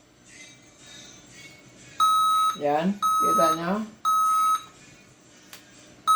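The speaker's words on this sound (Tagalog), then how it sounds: "Pero normally kasi magbe-beep yan pag walang RAM." A laptop with its RAM removed beeps at power-on, giving steady electronic tones in a spaced pattern, loud and close, while someone talks over and between the beeps.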